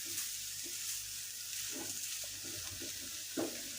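Grated paneer stirred into a mixture for bread fingers, giving soft, intermittent scraping stirs under a steady background hiss.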